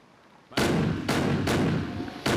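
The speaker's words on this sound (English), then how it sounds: "It's time for some grape shot." Naval cannons fire grapeshot in a New Horizons sea battle: four heavy booming blasts in quick succession, loud and close, each with a rumbling tail and no talk over them.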